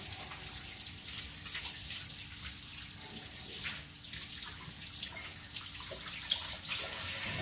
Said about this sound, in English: we're going to real quick rinse off in the sink